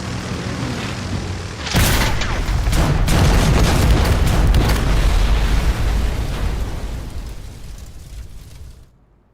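Aircraft bomb the Nanyuan airfield in a Republic-era drama, with a loud sustained roar of heavy explosions and booming blasts that builds after a low rumble, holds for several seconds, then fades and cuts off.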